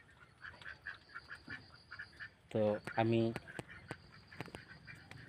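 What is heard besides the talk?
ducks quacking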